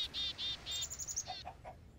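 Birds chirping and tweeting in a video game, a run of several quick, bright repeated calls followed by a few shorter chirps, moderately close and clear over a quiet background.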